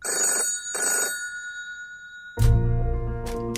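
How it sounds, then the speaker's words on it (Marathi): A telephone bell rings twice in short bursts, then a louder, fuller ring begins after a pause, close and clear in a quiet room with no voices. "साहेब फोन."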